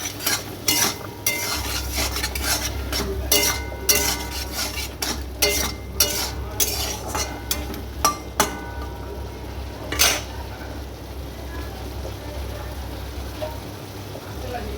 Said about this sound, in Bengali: দেওয়ার পর এবার আমি কষিয়ে নেব।